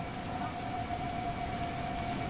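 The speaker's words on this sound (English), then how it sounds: "Here comes the rain." Rain in the video game Resident Evil Revelations 2, a steady dense hiss of falling water with a faint sustained tone underneath, continuous and unbroken, with no voices.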